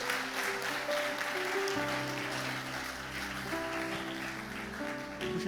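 Church congregation clapping during a Brazilian worship service, a soft steady patter of hands running under sustained music, fairly faint and continuous.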